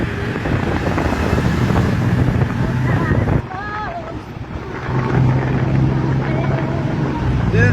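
A tuk-tuk rides through Bangkok streets with a loud, close engine drone, heavy wind rush and surrounding traffic, and people talk over the rumble.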